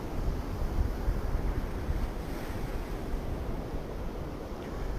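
Waves wash continuously against a harbour breakwater where boats pass through, a low rumbling surf with gusty wind buffeting the microphone.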